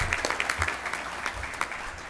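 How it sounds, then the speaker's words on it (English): Moderate applause with individual claps standing out, welcoming a young new member at a chamber of commerce Rooster Booster meeting, with a low murmur of voices underneath. "give this young man a big round of applause"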